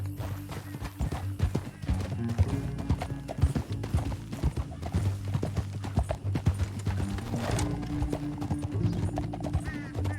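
Galloping horse in the video game Red Dead Redemption 2, rapid rhythmic hoofbeats pounding close and loud for the whole stretch, with snorts and a whinny among them.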